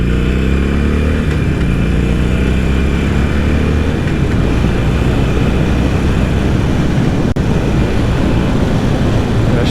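A 2020 Harley-Davidson Iron 883 motorcycle accelerating hard on the road, its loud, close engine roar rising in a steady, dense rumble through the gears, with heavy wind buffeting throughout and no voices.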